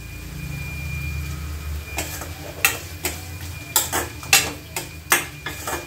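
A spoon scrapes and knocks against a cooking pot while black pepper mutton is stirred, producing a series of sharp irregular clinks and taps over a low background hum.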